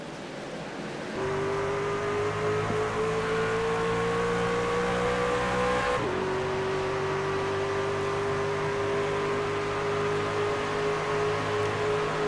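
Race trucks roar away at the green flag start of the Kansas 200, engines surging together after a quieter pace lap and climbing in pitch, with a brief shift break before rising again, loud and sustained.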